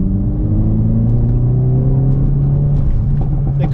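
A Hyundai i30N hatchback engine revs hard under acceleration, a loud, continuous rising drone heard from inside the car.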